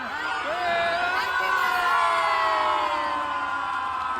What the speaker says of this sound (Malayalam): നിങ്ങൾ ഈ ആരവങ്ങളൊക്കെ കേൾക്കുന്നില്ലേ?